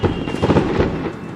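Distant fireworks going off during a bike ride through a remote desert region of China, heard as a dense stretch of low, muffled rumbling thuds and crackle with no voices over it.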